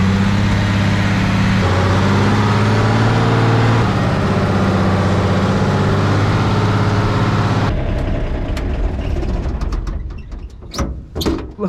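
A bobbed M923 5-ton military truck engine drones loud and close in low range first gear, holding a steady deep rumble with a slight pitch shift before cutting to quieter rattles and clunks.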